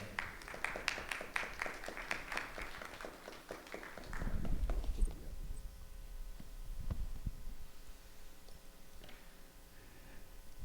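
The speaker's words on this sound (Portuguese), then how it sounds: "Recebam ele com um aplauso." An audience at a film-distribution panel claps in a steady, rhythmic patter for a few seconds to welcome a speaker, then the clapping fades into low thumps and a quiet room hum.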